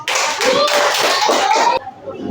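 Children in a classroom clap their hands together in a dense, steady burst of applause that lasts about two seconds and then stops abruptly. Young voices chatter underneath the clapping.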